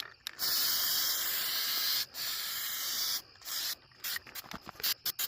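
An aerosol can sprays in long steady hissing bursts, the first about two seconds, then shorter blasts and quick choppy spurts near and loud, with no talk.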